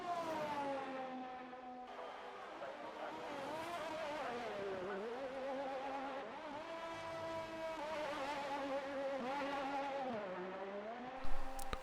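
Race car engine in a sim racing game at the Belgium round, revving hard with rising and falling pitch sweeps and abrupt drops suggesting missed gear shifts, loud and continuous throughout with a brief burst near the end.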